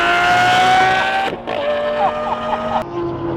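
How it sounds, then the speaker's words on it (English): Lamborghini Murcielago driving on a city road, a loud close engine note with shifting pitch and a brief drop around mid-pass, no talk. "This car looks so crazy on the road."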